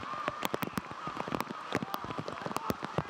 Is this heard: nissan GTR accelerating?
no